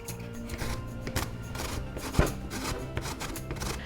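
A pumpkin is peeled by hand, with close, scraping and cutting strokes coming in irregular bursts and a sharper knock partway through, with no talking.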